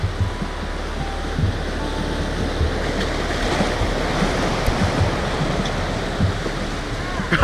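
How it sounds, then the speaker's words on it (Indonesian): Ocean waves breaking on a rocky beach at a fishing spot, with wind blowing across the microphone, a continuous loud rushing wash with no clear gaps between surges. "ombaknya makin gede nih. Anginnya juga lumayan nih berhembus nih"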